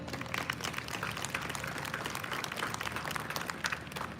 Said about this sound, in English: Can we give him a hand clap of praise?